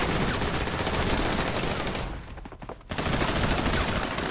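Gunfire rattles through a GTA 5 roleplay shootout with police, dense bursts of rapid shots packed tightly together, loud and close, with a brief lull before the firing resumes.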